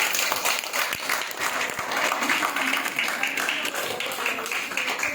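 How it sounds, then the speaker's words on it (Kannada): An audience of older parents at a therapy care centre applauds loudly and continuously, a dense wash of clapping from many hands throughout, fairly close and even in level. "ಜೋರಾಗಿ ಚಪ್ಪಾಳೆ."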